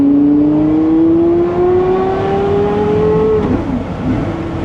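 A Porsche Carrera GT accelerating gently at very light throttle, its engine note rising smoothly in pitch for a few seconds before easing off, loud and close with no talk.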